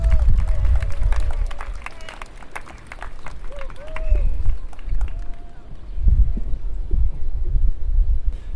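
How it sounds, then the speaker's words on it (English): A high school commencement audience breaks into steady applause and crowd noise for an arriving guest speaker, a dense, continuous patter with murmuring voices underneath. "Let's give him a round of applause as he comes up."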